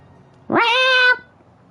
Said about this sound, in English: That is the cat every time.